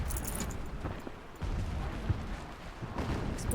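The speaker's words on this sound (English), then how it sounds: "Explosions in the distance" Muffled, distant explosions rumble continuously in a Horizon Zero Dawn game scene, a low booming wash with a few slightly sharper thumps rising and falling over about four seconds.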